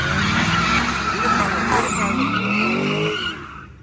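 A Mustang GT doing a burnout at a drag strip during a night of drag racing, loud continuous tire squeal and revving engine held for several seconds before easing off.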